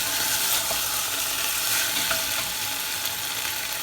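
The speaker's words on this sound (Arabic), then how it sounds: "بعد ما شوحتها كويس قوي" Okra sizzles and crackles steadily in a hot pan while being stir-fried, a continuous close frying hiss with small pops and stirring scrapes and no talk.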